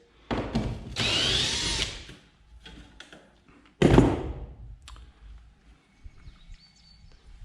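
A power drill driving a screw while building a shed workshop: two short, loud, close whirring bursts separated by a pause, followed by scattered quieter handling clicks.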